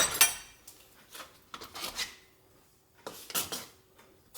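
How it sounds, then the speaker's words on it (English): Red bean paste (koshi-an) spread onto a mochi pancake, heard as soft, intermittent scraping and rubbing strokes of a utensil, faint and close, in short bursts with quiet gaps between them. "Spread on some koshi-an. Like this, okay?"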